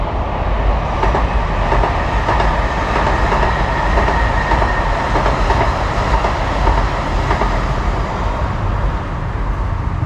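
A train rumbles past close by, a loud continuous roar with rolling wheel clatter that stays heavy and steady throughout, with no voices over it.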